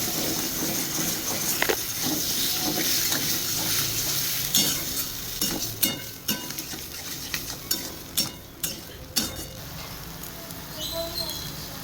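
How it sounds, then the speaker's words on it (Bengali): Yogurt being stirred into sizzling potato curry (aloo dum) in a pan: steady frying hiss with a series of sharp utensil scrapes and clinks against the pan toward the end, close and moderately loud. "দইটা দিয়ে একটু নাড়াচাড়া করতে হবে, নাহলে দইটা কেটে যায়।"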